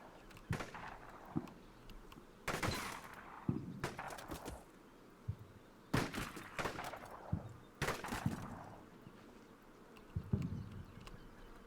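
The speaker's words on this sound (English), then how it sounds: "So it's someone else that's shooting at us." Gunfire in the Arma mod The Khabour Trail, a video game firefight: several clusters of loud, sharp rifle cracks and bursts with quieter distant shots between them, spread over a tense stretch with no talking.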